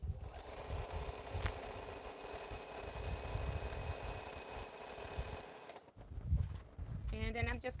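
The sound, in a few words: sewing machine stitching quilt pieces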